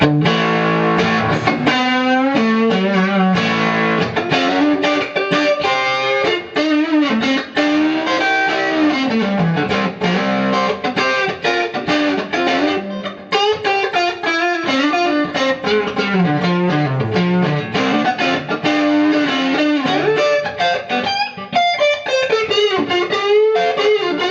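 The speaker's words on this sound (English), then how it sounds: "same amp with a bit of gain, back to the neck pickup" An electric guitar plays a continuous melodic line through a Fender amp on the neck pickup, with moderate overdrive and a roomy reverb tail, loud and up front.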